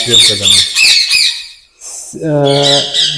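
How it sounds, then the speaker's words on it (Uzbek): Loud, harsh squawks from grey parrots and cockatoos burst out close by in a few rapid calls, a short pause, then another raucous round, in a bird breeding facility. "bu yerda jako, kakadu boqiladi mana"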